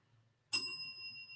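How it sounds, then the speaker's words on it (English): A single bell strikes with a sharp onset and then rings on in a long, steady metallic decay, loud and alone against a quiet background. "Oh, there goes the bell."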